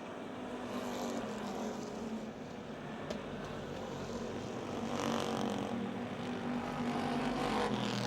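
Race cars circle the Motordrome Speedway in a September 2007 race, a steady distant engine roar that swells slightly toward the end, with no talk over it.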